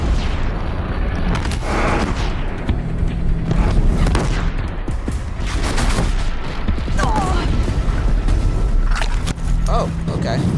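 Bombs explode during a machine fight in Horizon Zero Dawn The Frozen Wilds, with a string of heavy booming blasts and rattling bursts layered over constant combat noise while a player talks.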